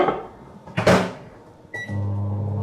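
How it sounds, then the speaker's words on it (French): A microwave oven is shut with a loud clunk and a brief beep. Its steady low hum then starts and runs on evenly at close range, with no voices heard. "On va le mettre au micro-ondes."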